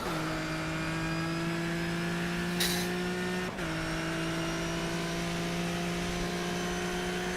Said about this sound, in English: is the turbo whine loud or is it something else?